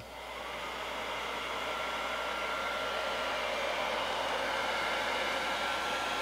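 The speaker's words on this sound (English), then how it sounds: "let the heat shrink. Get our gun again, put it on hot." Heat gun set on hot, shrinking heat-shrink tubing over an aileron servo wire, gives a steady close-up blowing whoosh that ramps up briefly and then holds constant, with no voices.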